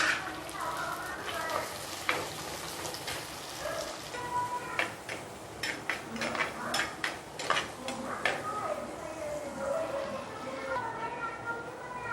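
Small shallots fry in hot oil for a village-style mutton curry, giving a soft continuous sizzle broken by scattered clinks and scrapes of a spoon stirring the pan.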